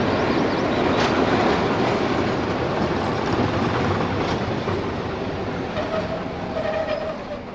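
A British Rail diesel multiple unit train runs with a steady loud rumble and engine roar, wheel and rail noise continuous throughout, close by and filling the whole soundscape.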